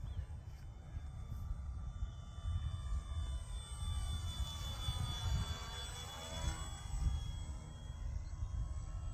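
Electric RC scale Hawker Hurricane, 48-inch wingspan, flying overhead as it sets up to land, a faint motor whine sweeping past with the pitch rising then falling over steady outdoor background noise, with low voices nearby.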